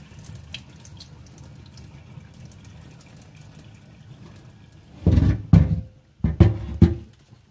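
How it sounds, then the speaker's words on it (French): Water draining off soaked couscous as the dish is tipped over a sink: a faint trickle at first, then several loud splashing gushes and drips near the end, with no talking. "Ensuite, on va enlever l'eau, juste en renversant comme ça le plat."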